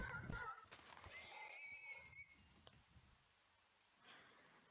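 Horses in the Minecraft video game whinny in short bursts, with a faint clinking and soft game sounds in between, quiet overall.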